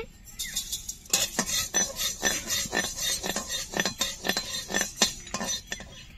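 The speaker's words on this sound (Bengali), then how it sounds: "প্রথমে শুকনো মশলাগুলো ভেজে নেব গরম মশলা ধনে" Whole spices, garam masala and coriander, being dry-roasted and stirred in a pan for khichuri, with a utensil scraping and clinking against the metal in a quick, repeated rhythm, close and fairly clear with no talking.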